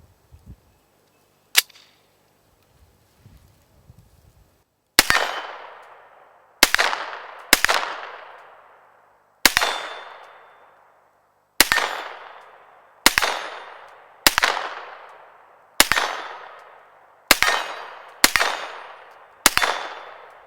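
Single shots from a Sig MPX fired one at a time at an unhurried pace, about a dozen sharp loud cracks each trailing off into a short decay, after a brief quiet stretch with one early report.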